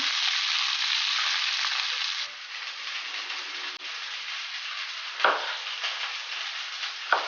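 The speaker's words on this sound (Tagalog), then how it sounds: "habang piniprito po natin ng isda" Bigeye scad (matang baka) frying in hot oil: a steady, dense crackling sizzle that holds throughout, easing slightly midway, with a couple of brief utensil scrapes near the end.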